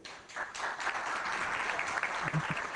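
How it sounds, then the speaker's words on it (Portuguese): Audience applause at a panel session of a film-industry seminar, a steady dense patter of many hands clapping at moderate level through the whole stretch. "nem falamos nada, já está aplaudindo"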